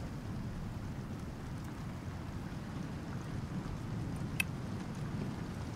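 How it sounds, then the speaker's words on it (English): Storm in the survival game Icarus, a steady dense wash of rain roaring without pause, with a low rumble of thunder underneath and one brief sharp crack near the end. "I'll just stay here until that storm is over."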